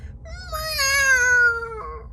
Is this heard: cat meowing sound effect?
yes